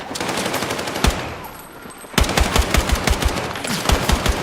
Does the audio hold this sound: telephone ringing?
no